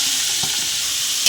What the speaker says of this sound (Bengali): আমরা 1 চামচ ঘি দিয়ে দিলাম। ঘিটা গরম হয়ে গেছে, আমি লাউটা দিয়ে দিলাম।